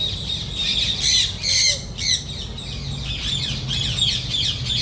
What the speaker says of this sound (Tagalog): Okay, look at the parrot. Hey, it's a parrot.